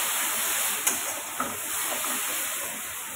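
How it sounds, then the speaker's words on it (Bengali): Spice paste for a sea crab curry frying in a pan gives a steady low sizzle with a couple of sharp stirring clicks, heard alone at moderate level. "তো দেখো মশলা ভালোভাবে কষানো হয়ে গেছে"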